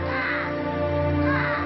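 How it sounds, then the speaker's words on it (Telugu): A large flock of crows caws together in a dense, continuous chorus, loud and close. "బోల్డ్ అన్ని కాకులు వచ్చేసాయి."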